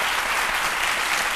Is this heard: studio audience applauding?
yes